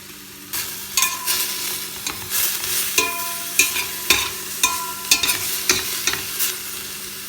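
Meat sears on a sac tava, a wide curved griddle pan, with a loud, steady sizzle broken by repeated metallic scrapes and clinks from a spatula stirring at an uneven rhythm.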